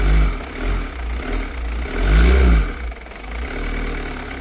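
An old diesel engine with a fuel leak runs in a yard workshop, a steady low rumble with a brief rise in revs near the middle before settling back to a rough, continuous idle.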